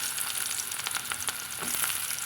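Small onions and mustard seeds frying in hot oil for a Tamil green gram curry, a steady close crackling sizzle with quick popping bursts, no voices.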